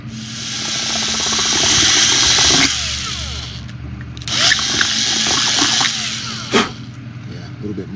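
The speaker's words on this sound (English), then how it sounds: "Since we're drilling, we might as well take care of this right now" A small power drill whirs in bursts into a plastic 1:650 scale USS Enterprise model kit part, rising and stopping a few times up close, with a voice talking now and then between runs.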